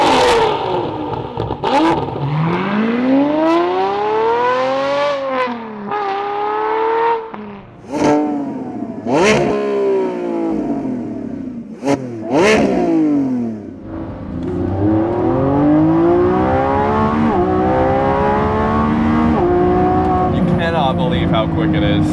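A Lamborghini Revuelto's V12 engine screams through repeated high revving runs, rising and falling in sharp sweeps with quick gear changes, loud and close, with some talking mixed in.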